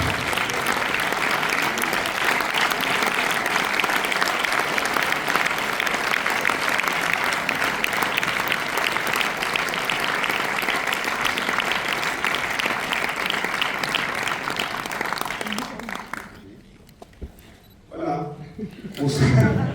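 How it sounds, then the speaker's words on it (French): Audience at a French film premiere applauding loudly and continuously for about fifteen seconds, then the clapping breaks off into scattered claps, murmurs and a voice near the end. "vous avez tellement applaudi, ce qui est sympathique"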